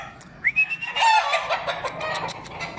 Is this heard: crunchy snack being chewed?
no